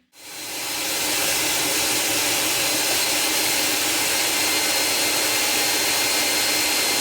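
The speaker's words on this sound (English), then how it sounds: "let's try and get a better wind speed measurement and then do some vacuuming" A 1982 Hoover Powervac Wet & Dry S4266 vacuum cleaner starts abruptly and runs with a loud, steady, broadband roar that holds evenly for several seconds, close by and with no talking.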